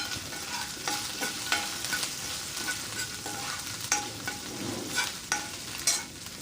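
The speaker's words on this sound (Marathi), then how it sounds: "यामध्ये मी आता टाकत आहे कढीपत्ता आणि ठेचलेलं हिरव्या मिरच्या आणि अद्रक आता छोटा चम्मच जिरा हे तेलामध्ये छान असं परतून घ्यायचं" Curry leaves, crushed green chilies, ginger and cumin sauté in hot oil for karanji chaat, a close steady sizzle broken by repeated scraping stirs of a spoon, no voices.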